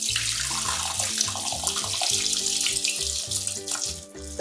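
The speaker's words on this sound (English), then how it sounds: "The stock looks good, so we're going to strain it." Homemade turkey stock poured through a kitchen strainer into a large measuring cup, a continuous splashing, gurgling pour of liquid, close and fairly quiet.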